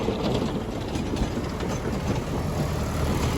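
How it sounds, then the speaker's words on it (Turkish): A tractor engine runs at low throttle while pulling a rotovator to prepare a potato field, a steady, loud, close rumble without pause. "Traktöre fazla gaz vermedim."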